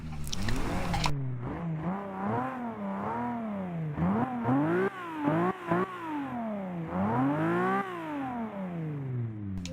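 A 1969 Nissan Fairlady Z in the Forza 5 video game cranks briefly, fires up and revs repeatedly, the engine note rising and falling in rapid swells before settling, close and clear with no speech.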